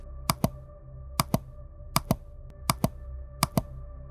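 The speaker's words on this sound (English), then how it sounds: "You could hear the clicking of the call button." Clicking of a hospital call button in patient room 412, heard as paired sharp clicks repeating at a steady rhythm about every three-quarters of a second, close and distinct over a low background hum.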